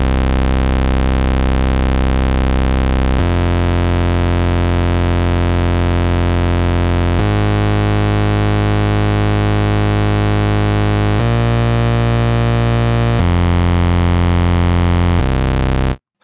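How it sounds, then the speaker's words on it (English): Loud, dense bassy synth sequence from Vital, its oscillators pitched down by octaves, holds thick buzzing tones that change pitch every few seconds in a steady, heavy pattern, with no voices over it. "we are going for a really bassy sound"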